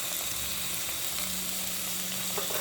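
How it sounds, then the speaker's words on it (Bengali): Spices with tomato, turmeric and salt frying in a pan for a braised meat dish, a steady close sizzle running without a break and with no talking. "মশলাগুলোকে সমস্ত মশলাগুলোকে সুন্দরভাবে কষিয়ে নেবে।"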